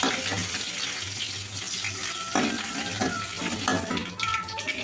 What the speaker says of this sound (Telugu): దంచుకున్న ఎల్లిపాయ, కొంచెం కరివేపాకు, కలర్ వచ్చిందాక వేగాలి.